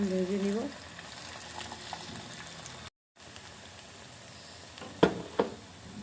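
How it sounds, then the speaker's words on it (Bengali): Battered tea flower pakoras fry in hot oil, a soft steady sizzle close by, with a short voiced sound at the start, a brief gap, and a couple of sharper clinks or stirs near the end. "এখন মাখানো হয়ে গেছে, ফ্রাই করে নেব,"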